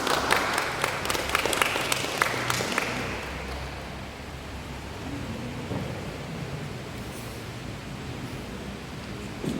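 An audience at an evening church gathering claps for a speaker, a dense close burst of applause that peaks early, then thins into a softer, lingering patter.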